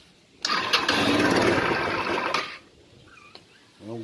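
A 125 scooter engine being tested during repair starts with a sharp catch, runs with a loud buzzing idle for about two seconds and then cuts off, followed by faint background sounds.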